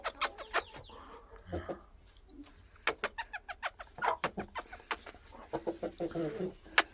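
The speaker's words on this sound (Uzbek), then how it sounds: "Mana xo'rozimiz." A rooster clucks in short, irregular bursts, close by and fairly quiet, with scattered sharp calls and softer chatter mixed between them.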